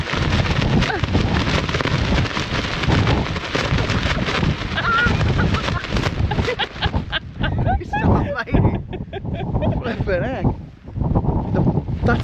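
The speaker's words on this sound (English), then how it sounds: "We're just going to demonstrate how windy it is" Strong wind blasts loudly across the microphone in rough gusts at a wild camp, easing briefly near the end, with a few voices talking under it.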